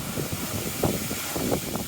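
Wind on a cold, windy day in an open city neighbourhood: a steady broadband roar buffeting the microphone, with low rumbling gusts swelling and easing throughout.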